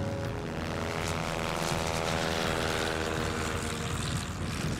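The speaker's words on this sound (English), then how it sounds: "loaded the bear into his plane and flew it back to town for processing" A propeller plane on the Alaska Peninsula drones steadily in flight, its engine a loud, even, continuous hum with no voices over it.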